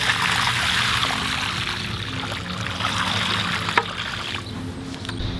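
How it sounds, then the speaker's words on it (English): Water pours steadily onto the soil around a newly planted, grafted fruit tree, a continuous close splashing trickle that runs unbroken for several gallons. "now that you planted your tree, you gotta water it"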